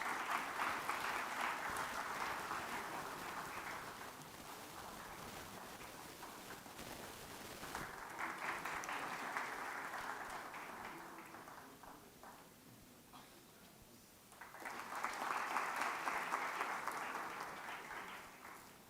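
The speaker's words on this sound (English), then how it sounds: "Amongst all this clapping and appreciation" Audience clapping at a live conference inauguration ceremony in a hall, coming in several sustained waves of moderate, distant applause with quieter gaps between them.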